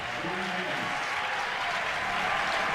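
A crowd applauds a climber at the IFSC Bouldering World Cup finals in Meiringen, with dense, steady clapping throughout and a commentator talking over it.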